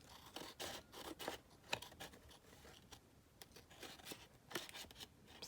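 Scissors snip through an altered playing card to trim off a protruding piece, giving a run of short, crisp cuts and paper rustles, quiet and close.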